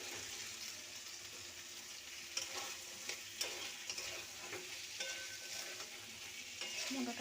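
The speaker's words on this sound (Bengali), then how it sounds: "মটরটাকে ভালো করে কষিয়ে নেব।" Peas frying in spice paste, stirred in a pan, a soft continuous sizzle with intermittent spatula scrapes and taps, close but quiet, no talking.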